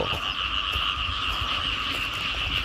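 Frogs calling loudly across flooded rice fields after rain, a thick unbroken chorus of croaks layered near and far, with no talking.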